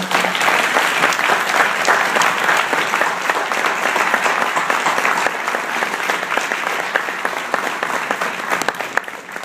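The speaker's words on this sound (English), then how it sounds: "so let's give them a round of applause." Sustained, enthusiastic applause from a large crowd, dense clapping filling the space at a steady level throughout.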